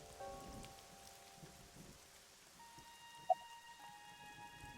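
Rain falling in the video game AI: The Somnium Files, a faint steady patter under soft sustained background music tones, with one brief click partway through.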